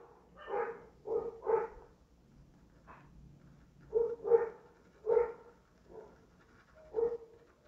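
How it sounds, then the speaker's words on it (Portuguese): Dogs bark at people passing in the street, giving a handful of sharp, moderately distant barks in irregular bursts with short pauses between them, alone with no talk over them. "Daí os cachorros ficam acuando."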